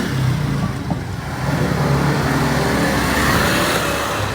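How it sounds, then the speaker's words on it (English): Gasoline-powered motorcycles pass loud and close along a street in Jiangmen City, their engines droning steadily over constant traffic noise with no talking. "Those are gasoline-powered motorcycles that are not even allowed to be on the road in many Chinese cities."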